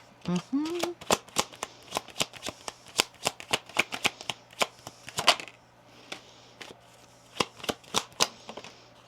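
Tarot cards are shuffled and drawn in a rapid series of crisp, close snapping riffles and flicks for a reading, with a voice briefly audible near the start.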